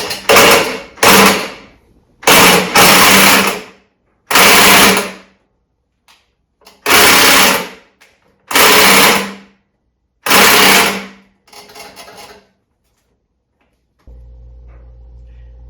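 A handheld power tool driving an AMF 508 pedal car runs in about eight loud, broadband bursts of one to two seconds each, separated by silences, ending with a steady low hum.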